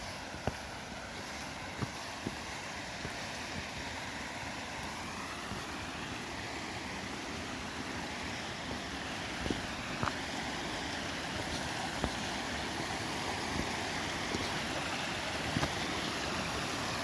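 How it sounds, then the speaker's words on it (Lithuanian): A waterfall crossing a hiking trail in the Karkonosze mountains on the way up Sněžka, heard as a constant broad roar of rushing water close by, with a few faint knocks and no talk. "Turim krioklį savo keliai."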